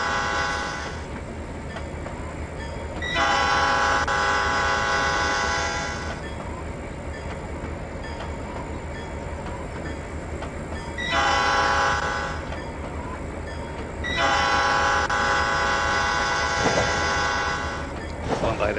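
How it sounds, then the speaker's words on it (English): A locomotive in the Trainz 2019 railroad simulation game on a local grain run sounds its horn in long sustained blasts, over a continuous rumble of the running train. "That train horn would just really irritate me."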